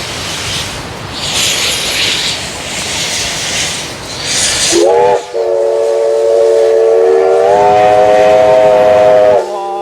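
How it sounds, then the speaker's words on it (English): A Q Train locomotive in Australia rumbles on the rails while moving around to couple to its train, then a loud steam-style whistle blows steadily for several seconds, close by, over the running engine noise. "This engine has been disconnected and it's going other way around to get connected to the main train."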